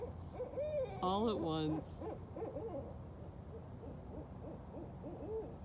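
Several barred owls hoot and cackle in a raucous chorus, loud and close, with overlapping rising and falling calls; a person speaks briefly partway through.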